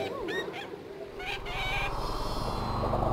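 A bird attacks a character in the medieval life-simulation game The Sims Medieval, giving loud honking, squawking calls in short bursts over a steady game background, with faint talk.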